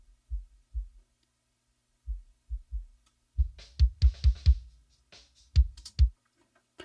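A solo kick drum with its low end cleaned up by EQ, everything below about 40 Hz rolled off, thumps in two short pairs, then a busier run of quick hits and a final pair, each punchy and close with silence between.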